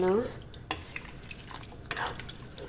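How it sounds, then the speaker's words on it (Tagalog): Pork sinigang is stirred in a pot with a few soft, sparse liquid sloshes and light utensil knocks close by, and a voice is heard briefly at the start. "Hahaluin ko muna po siya guys para po matunaw yung"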